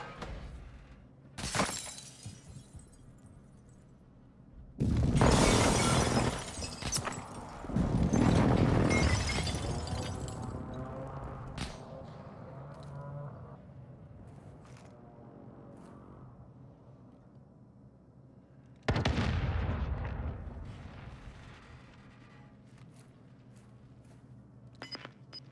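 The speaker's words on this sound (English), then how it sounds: "Airstrike, find cover." Airstrike explosions in Call of Duty Warzone land as three heavy, booming blasts spread apart, each with a crackling, rumbling tail that fades slowly under a low game background.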